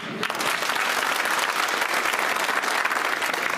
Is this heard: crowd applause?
yes